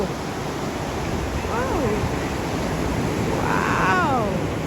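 Rough sea surf at Cox's Bazar beach roars as a dense, steady wash of breaking waves, loud and unbroken, while people speak briefly over it.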